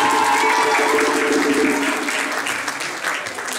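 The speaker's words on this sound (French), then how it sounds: "On l'applaudit très fort." An audience applauds loudly and steadily at a community presentation, the dense clapping fading slightly toward the end, with a voice briefly audible underneath.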